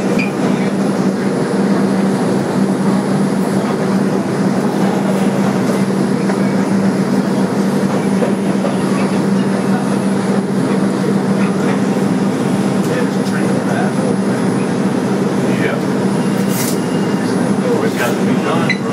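A 2001 Bombardier 2 local subway train on the IRT White Plains Road line rumbles loudly and steadily throughout, a constant droning roar with a low hum and faint high squeals near the end.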